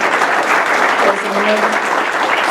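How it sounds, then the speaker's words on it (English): An audience applauds committee members at a community business networking meeting, a steady wash of clapping across the whole clip with some faint voices mixed in. "could you just kind of quickly stand so people can kind of applaud you"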